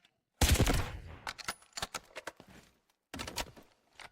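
Sniper rifle fire in the video game Delta Force: a sharp, loud opening blast followed by scattered clicks and mechanical thunks, then another burst of shots near the end.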